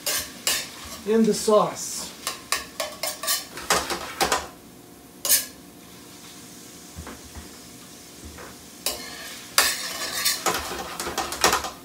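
Scallops and other shellfish sauté in a pan with a soft sizzle under repeated clinks and scrapes of a utensil stirring against the pan. The clatter comes in busy bursts with quieter gaps, and a voice speaks briefly.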